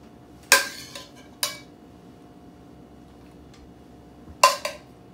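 Dishes and cutlery clink while a seafood sauté of shrimp is plated: three sharp, bright clatters of metal on crockery, each with a short ringing tail, spaced apart by quiet stretches, close and fairly loud.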